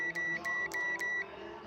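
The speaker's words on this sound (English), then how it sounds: "I hear a beep in there somewhere" Four short, bright electronic beeps in a steady rhythm from a multimeter on continuity mode, probing a motorcycle fuse, each tone sharp and close, followed by a quiet pause.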